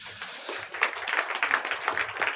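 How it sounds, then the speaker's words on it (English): An audience at a global health policy launch event gives a round of applause, dense overlapping clapping from many hands that swells after a moment and holds steady at moderate loudness. "And Luc Pepers, round of applause, please."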